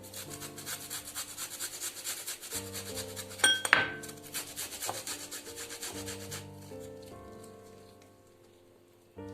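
Onion peels being ground for DNA extraction, a close rhythmic rubbing and grinding with a faint hum underneath, one sharp knock near the middle, then the grinding fades out toward the end.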